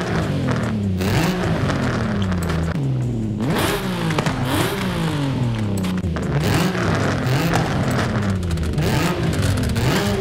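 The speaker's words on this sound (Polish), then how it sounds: "Tutaj możemy sobie jeszcze dźwięk wydechu zmienić na ten standardowy." A Nismo 370Z engine with a standard exhaust revs up and drops again several times in Forza Horizon 5, its exhaust note rising and falling loudly and close, with no talking.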